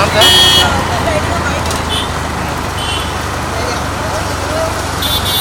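Road traffic rumbles around a motorbike on a late-night ride, with engine drone, passing vehicles and a few horn toots, while people talk over it.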